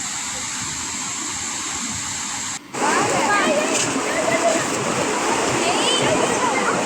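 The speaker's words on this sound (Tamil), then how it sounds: "தண்ணி பாருங்கள் எவ்வளோ அழகாக கொட்டி போயிட்டு இருக்காங்க." Waterfall near a temple in Udumalaipettai, water pouring down in a loud continuous rushing hiss that grows fuller after a brief dip, with a voice speaking over it.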